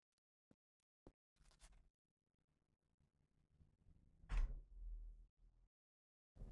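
A door in the video game Undying, a couple of faint clicks followed by a heavy sliding shut and a loud thud of the latch, close and isolated in near silence.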